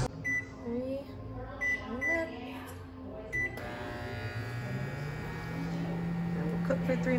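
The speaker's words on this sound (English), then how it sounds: "Now I'm gonna put it in the microwave for 3 minutes." A microwave oven heating a bowl of spicy instant noodles: a few short button beeps, then the oven starts and runs with a steady, droning electrical hum close by.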